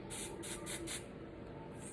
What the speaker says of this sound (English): I'm gonna give it another spray.